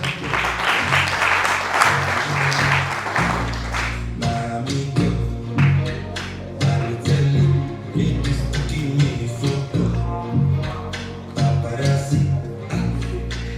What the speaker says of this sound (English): kindly help me give a round of applause for Hilda Mudhoni